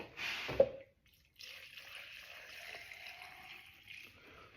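A short splash, then a steady stream of spring water pouring into a blender for several seconds, close and soft.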